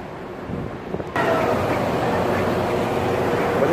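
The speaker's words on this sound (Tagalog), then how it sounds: "Medyo windy dito." Wind gusting across the deck of the Norwegian Star cruise ship near the helipad, a loud steady rushing roar that swells after a short calmer opening and then holds without a break.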